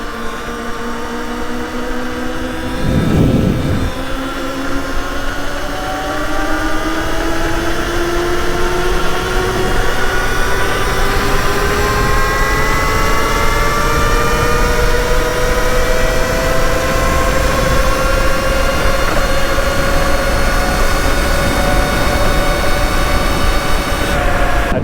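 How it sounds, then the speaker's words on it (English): Sur Ron electric dirt bike with an O-ring chain at wide open throttle gives a loud, steadily rising motor whine over dense chain and wind noise, sustained throughout without talk. "I did go wide open throttle there"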